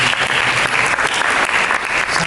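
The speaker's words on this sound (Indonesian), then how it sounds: "Tadi kita berikan tepuk tangan bagi Yesus." A church congregation claps in a steady, full round of applause during a worship service, continuous and fairly loud throughout with no talking over it.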